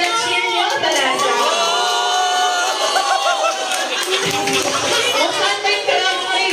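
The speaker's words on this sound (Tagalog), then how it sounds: "Talasa, nasaan ang cheer nyo?" Crowd noise at a live Tekken 7 esports event as fans cheer for Talasa, a roaring mix of shouts and chatter with a commentator-style voice talking over the din.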